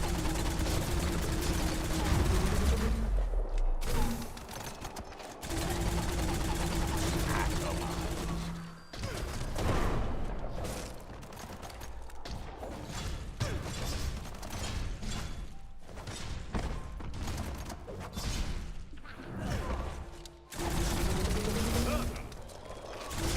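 Player's gun firing in Biomutant, with repeated bursts of shots and mechanical clatter spread across a long stretch of loud, busy game sound, a voice talking at times underneath.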